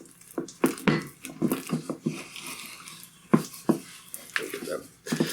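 Cream cheese and butter are creamed together in a bowl, giving soft scraping and clinking knocks of a utensil against the bowl, irregular and close, with intermittent talking.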